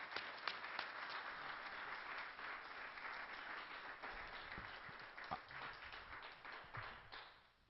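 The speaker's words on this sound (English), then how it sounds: "let's give Dr. William Deagle a warm round of applause at the Granada Forum" Audience applause at the Granada Forum for Dr. William Deagle, a steady dense clapping from a crowd that holds throughout, then tapers off in the final moment.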